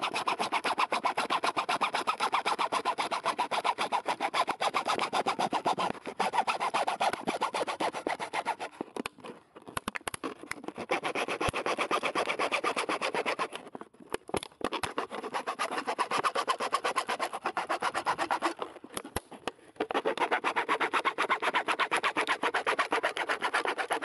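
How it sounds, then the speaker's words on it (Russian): A hand saw works through a piece of material to make a replacement for a garden cart wheel, steady back-and-forth rasping strokes close and loud, with brief pauses near the ten, fourteen and nineteen second marks. "Тяжеловато пилится."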